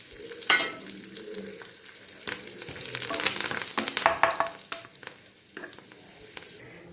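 Curry leaves and crushed fennel seeds dropped into hot oil, crackling and sizzling up close with bursts of popping and occasional stirring scrapes against the pan.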